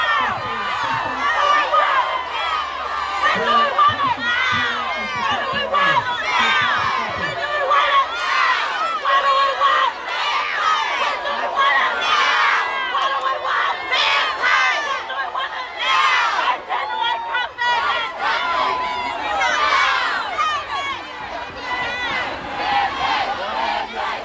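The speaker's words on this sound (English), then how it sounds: "this may be the first time in decades that a minister has actually been booed off the stage outside Parliament like this" A large outdoor crowd outside Parliament boos a minister off the stage, a loud, sustained roar of jeering voices and shouting that stays dense and steady throughout.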